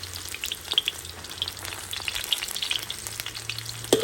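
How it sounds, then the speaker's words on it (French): Onions sautéing in very hot oil for a fish sauté give a steady, close frying sizzle with scattered crackles and pops, alone without talk. "les oignons et dans l'huile chaude, très très chaud."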